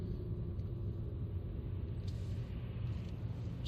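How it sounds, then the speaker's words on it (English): A 2007 Renault Laguna Sport Tourer with a 2.0 engine and automatic gearbox drones steadily while driving, a low continuous rumble from the cabin with no talk over it. "But this engine's fine. It just doesn't sound particularly good."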